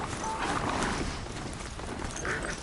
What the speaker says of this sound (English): Yeah, new horse.